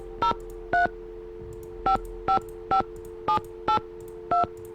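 Telephone keypad dialing tones in a Nancy Drew video game, nine crisp beeps at an uneven pace over a steady low background hum.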